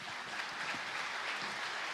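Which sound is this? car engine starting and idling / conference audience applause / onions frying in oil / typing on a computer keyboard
conference audience applause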